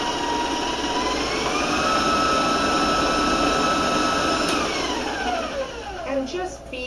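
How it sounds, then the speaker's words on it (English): Electric mixer whirs steadily, beating eggs one at a time into cupcake batter for mini chocolate mint cupcakes, a loud continuous motor drone that shifts pitch slightly and winds down at the end. "Just beat them till they're nice and pale and yellow and creamy"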